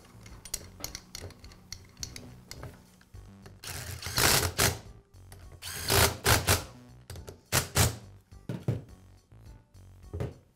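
Bolts are installed on a Karcher pressure washer pump during an oil seal repair, with close, irregular metallic clicks and bursts of ratcheting in several runs, louder toward the middle, and no voices.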